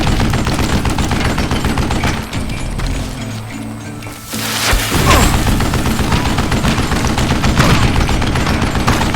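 Rapid gunfire in the Western shooter game Call of Juarez Gunslinger, loud bursts of shots and booms filling the scene, with a short quieter lull in the middle before the shooting resumes.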